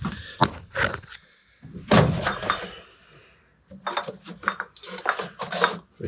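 Wooden kombucha delivery crate loaded with glass bottles being handled, giving several close clinks, knocks and thuds in bursts with short pauses between.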